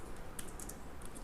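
Computer keyboard typing while writing C++ code, a steady run of light, quick key clicks with a few sharper taps, close and alone with no talk.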